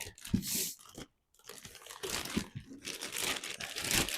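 A plastic packaging bag holding a Morimoto tail light for a Ford Bronco crinkles and rustles close up as it is handled, in irregular bursts with a brief pause near the start.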